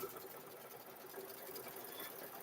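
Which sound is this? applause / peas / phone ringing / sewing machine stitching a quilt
sewing machine stitching a quilt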